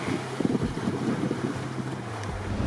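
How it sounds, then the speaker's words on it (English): Wind roars steadily around a sailboat at sea in rough weather, with gusty rumble buffeting the microphone and waves washing beneath, no voices. "because the wind is picking up and it's forecast to pick up higher"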